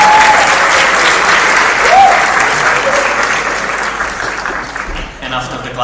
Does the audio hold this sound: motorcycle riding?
no